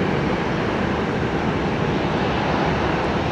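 An airliner roaring down the runway on takeoff at Tampa International Airport, a loud, steady broadband engine rush heard alone without voices.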